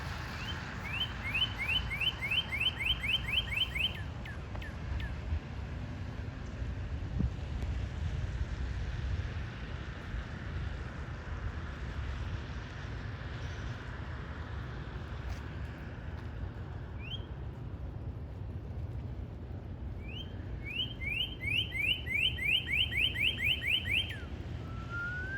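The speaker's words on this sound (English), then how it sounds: "one of my favorite birds called a cardinal. And listen to the way that it whistles" A northern cardinal whistles bright, rapid series of repeated notes, once near the start and again near the end, over steady wind and low background rumble.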